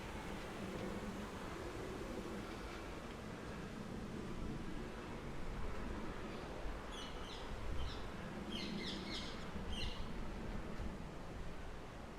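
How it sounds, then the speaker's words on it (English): Harsh parrot calls ring out in clustered bursts over steady outdoor ambience at a seaside hotel garden in Puerto del Carmen, several squawks bunched toward the end, moderately distant. "parrots squawking"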